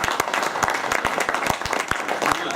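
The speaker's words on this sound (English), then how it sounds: "if y'all want to give him a hand clap," Scattered hand clapping at a boxing post-fight press conference, a handful of distinct sharp claps in uneven rhythm, fairly close and loud, with no talk over it.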